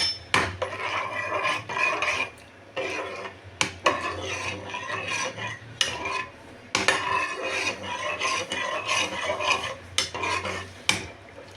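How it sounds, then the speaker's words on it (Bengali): A spoon stirs coconut water and agar agar jelly mixture in a pan, scraping and knocking against the metal in irregular strokes, close by and with no speech. "আগার আগার পাউডারটা ঢেলে দিয়ে ভালো করে নাড়ব"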